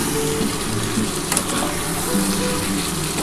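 Spices and masala sautéing in a pan for a mutton curry with potatoes, a steady continuous sizzle with soft stirring noise, close and fairly loud throughout, no talking.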